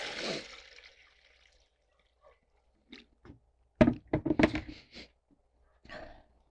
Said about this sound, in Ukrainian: Ось такі в нас грибочки помиті, доливаю ще води.